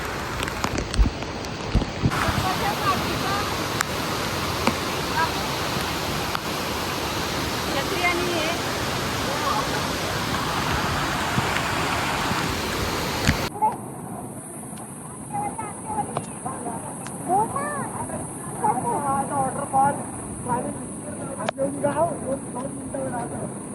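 Rushing water from a monsoon waterfall near a village home, a loud continuous roar that later becomes thinner and more distant, with people talking over it.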